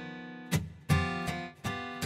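Ample Sound strummer plugin plays a MIDI guitar pattern: four bright, ringing strummed chords with sustained decays between them, sounding clean and up close.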